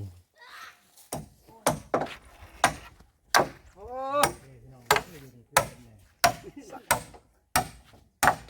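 Nails are hammered in while floor is being laid in a house under construction: about a dozen sharp, loud, close blows in an uneven rhythm, with a voice speaking between some strikes.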